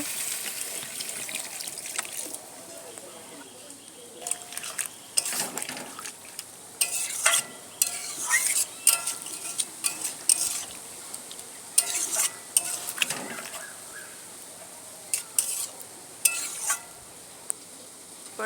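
Prawn curry being stirred in a frying pan, a continuous wet sizzle broken by repeated scraping strokes and clinks of the utensil against the pan, close and steady with no talk.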